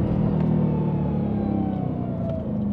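A Dodge Hellcat Challenger revs its engine through the intake, giving a loud, steady, deep roar with a faint rising whine, close and sustained with no talking.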